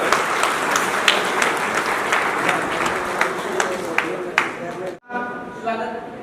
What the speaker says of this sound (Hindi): तालियां हो जाएगी।